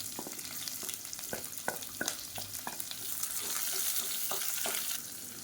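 Sliced onion, mint leaves and spices frying in a pan, a soft, continuous sizzle with scattered light ticks and stirring scrapes, heard close but fairly quiet.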